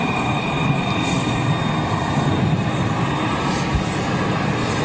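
Broadband jet noise from airliners on the ground at Schiphol airport, with CF6-engined aircraft near Etihad and KLM jets, a steady loud roar with whining tones that holds for the whole stretch.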